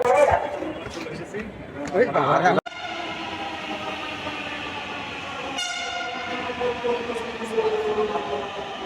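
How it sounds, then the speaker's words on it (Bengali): A metro train on Dhaka's rail line pulls into the station with a long rising horn and a steady rumbling rush of wheels, following crowd noise and voices on the platform. "মেট্রো রেল চলে এসেছে"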